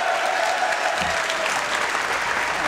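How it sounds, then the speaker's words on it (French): A French television studio audience applauds, a dense, even wash of clapping that holds steady and loud throughout with no talk over it. "Applaudissements"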